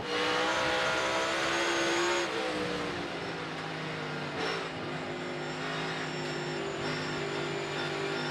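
A NASCAR Cup Series race car engine roars steadily at high revs on the Bristol dirt track, its pitch shifting smoothly as the throttle eases and picks up, continuous and close throughout.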